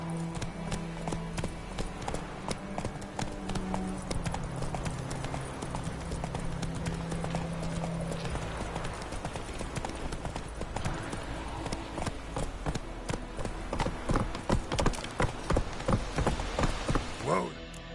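Horse hooves clip-clopping in The Witcher 3 on PS5, a steady rhythmic trot of close, sharp hoof strikes that quickens and grows louder toward the end.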